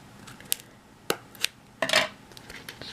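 Scissors snipping off extra tape while making a simple stamped card, a few sharp separate clicks and snips up close, followed by a brief crinkle of tape, with no talking.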